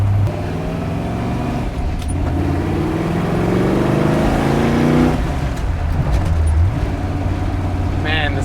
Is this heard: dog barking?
no